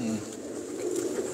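A pigeon coos, a low soft warble rising and falling over a moment, close and moderately quiet amid faint background noise, with no clear talk.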